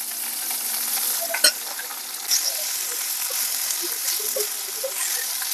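Mustard seeds, curry leaves and peanuts frying in hot oil make a steady, dense sizzle throughout, broken by a few sharp crackles and pops from the seeds.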